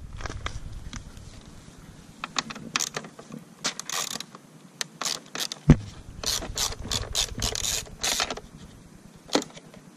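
A ratchet wrench backs out 10mm bolts from the rear fender of a GSXR 750 motorcycle during a fender eliminator install, giving bursts of rapid close clicking with short pauses and a few clanks between runs.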